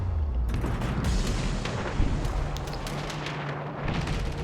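Battleship guns boom in the naval video game World of Warships Legends, a deep opening blast followed by rolling, overlapping explosions and crackling impacts that rumble on without talk.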